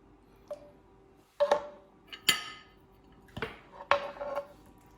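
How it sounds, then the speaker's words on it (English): A spoon scraping and clinking against a dish while crispy beef is served, several sharp metallic taps and clatters spaced irregularly in a quiet room. "And the crispy beef, we just spoon over like so."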